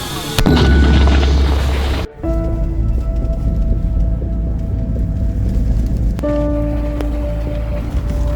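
A mortar fires with a deep, booming blast at the start, then another heavy thump a couple of seconds later, followed by a low rumbling drone that continues to the end.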